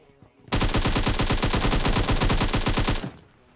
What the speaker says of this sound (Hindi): अब यहाँ पे गोलियों की आवाज़ जोर से आती है